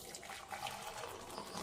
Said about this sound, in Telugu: ఆ వేడి నీళ్ళు ఇంక అందులో పోసుకోవాలి.